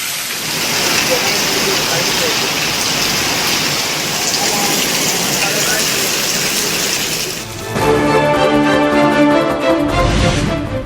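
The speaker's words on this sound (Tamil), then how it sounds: "அசாம் மாநிலம் முழுவதும் கொட்டி தீர்க்கும் கனமழை" Heavy rain pours down across Assam, a dense, steady roar that runs loud and unbroken for most of the stretch before giving way to a different, more tonal sound near the end.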